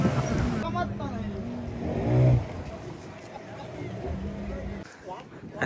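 Boat motor droning steadily over the water during a coastal trip in Malvan, with several people talking close by over the engine noise.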